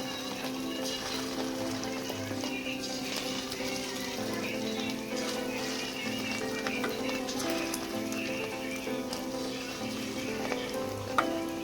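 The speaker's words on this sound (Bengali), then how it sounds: "এবার বড়াগুলো আমি ভেজে নেব" Fish roe fritters frying in hot oil in a kadai give a steady, close sizzle that crackles on without a break.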